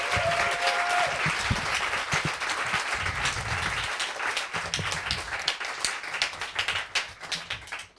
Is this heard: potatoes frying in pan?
no